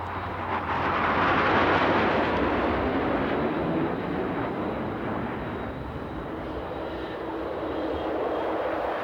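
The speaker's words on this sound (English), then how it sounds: "here's the B-52, not in need of fuel today, but back for a fast pass by the airfield" A B-52 bomber makes a fast pass over an airfield at an airshow, its loud, broad jet roar swelling early, then holding steady and heavy throughout, with no talking.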